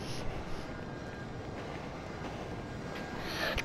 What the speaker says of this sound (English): Train! Watch out!